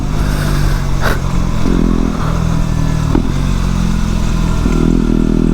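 A motorcycle engine with an Arrow aftermarket exhaust rumbles steadily and close, its deep drone swelling slightly, with occasional clatters and knocks.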